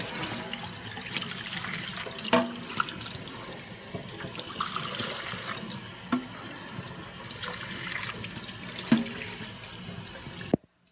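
Water from a tap runs steadily into a sink during rinsing, a continuous close hiss and splash with occasional small knocks, stopping abruptly at the end.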